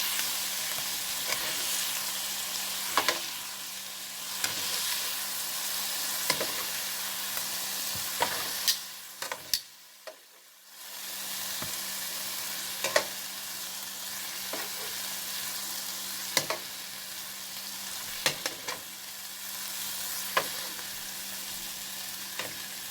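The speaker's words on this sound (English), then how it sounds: "So I'm finishing up browning the oxtails" Oxtails browning in a frying pan give off a continuous crackling sizzle with scattered sharp pops and the occasional utensil knock. The sizzle briefly drops away midway, then resumes steadily with no voices.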